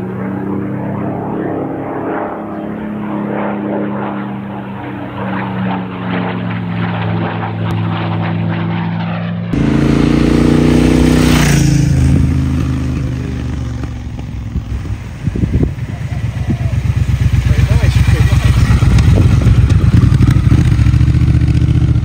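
A Triumph Bobber Stealth Edition motorcycle's engine and exhaust: a deep, throbbing, aircraft-like rumble that steps up sharply partway through into a louder, sustained roar, heard close with no talk.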